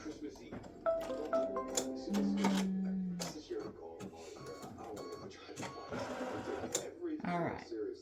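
Embroidery machine stitching a pink applique placement outline for a gnome girl's hair on a t-shirt, with rapid mechanical chattering and whirring in bursts and clinking clicks, while a person talks over it.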